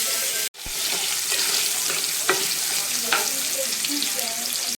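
Potatoes frying in oil in a pan with paneer, a dense, steady sizzle close up with occasional stirring clicks after a short break at the start, no talk.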